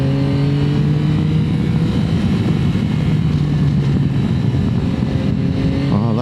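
A 2025 Yamaha Tracer 9 GT triple engine pulls hard and loud, its pitch climbing steadily under heavy wind rush, with a fresh rise at the end.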